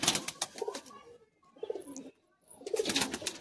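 Pigeons at a pigeon sale in Bagnan, Howrah coo softly in short bursts with brief quiet gaps between them, close by, mixed with faint chirps.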